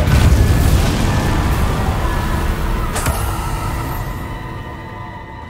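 A Depulso force spell cast in the video game Hogwarts Legacy, heard as a loud, dense boom-like blast with a sharp burst near the middle, then slowly fading out.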